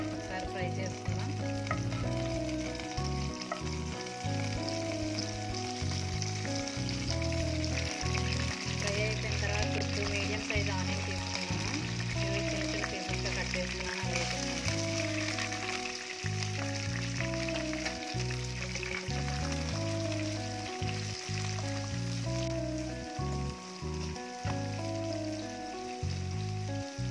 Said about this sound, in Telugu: ఆనియన్స్ గోల్డెన్ బ్రౌన్ వచ్చే వరకు వేగించుకోవాలండి